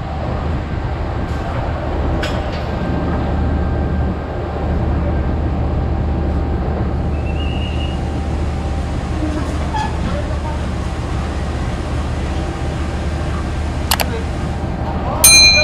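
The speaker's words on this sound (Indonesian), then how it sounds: "Ini adalah proses pemindahan lokomotif dan pemasangan lokomotif" Railway yard ambience at Surabaya Gubeng station as a locomotive is coupled to a train: a steady engine rumble, occasional metallic clanks and dings, and a sharp clang near the end.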